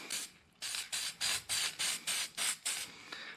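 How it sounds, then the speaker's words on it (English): Aerosol spray can misting copper coating onto parts of a 2005 GMC Sierra 2500HD truck, heard as about eight short, even hissing bursts in a steady rhythm, close and fairly loud with brief pauses between. "And go ahead and spray it, once per side."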